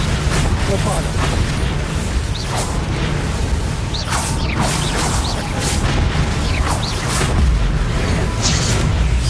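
A Bombarda explosion spell cast in a Harry Potter video game, heard as dense, continuous booming blasts and crashing whooshes with clattering mechanical debris, loud and layered throughout.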